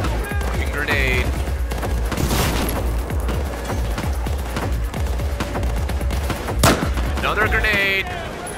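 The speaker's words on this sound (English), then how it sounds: "Another grenade!" Battlefield 4 campaign combat with dense overlapping gunfire and a sharp grenade blast near the end, layered under game voices and chatter throughout.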